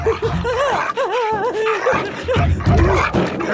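A dog barks in a tense Hindi-dubbed movie scene; the barking is loud and close, mixed with a dramatic music score and voices throughout.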